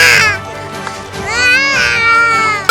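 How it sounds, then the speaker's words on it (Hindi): A small child cries in wavering, drawn-out wails near a neighborhood where homes were bulldozed after a dispute over a stolen goat, with faint voices in the background. "ये छोटे बच्चे की जो रोने की आवाज़"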